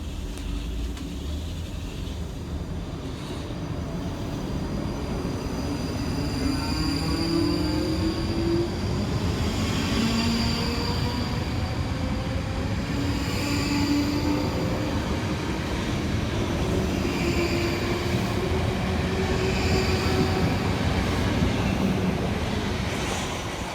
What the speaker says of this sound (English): we see the departure of 458 423 and 458 425